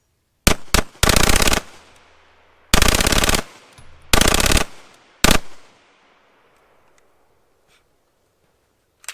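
A Cobray M-11/9 fires several loud, close bursts of rapid automatic fire, each a half-second or so, separated by short pauses, with a final single shot and then quiet with a faint echo.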